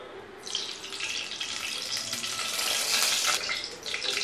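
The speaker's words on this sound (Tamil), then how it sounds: "முதல்ல எண்ணெய் ஊற்றணும்" Oil is poured into a pan for a garlic tamarind gravy, giving a bright, hissing, splashy rush that builds and holds close by.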